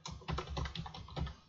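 Quick run of keystrokes on a computer keyboard while setting up folders in HP ALM test-management software, a dense, steady clatter of close clicks with no talk.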